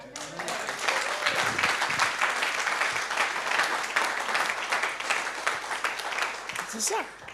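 A church congregation breaks into sustained, enthusiastic applause, a dense wash of many hands clapping steadily throughout with a few voices cheering over it.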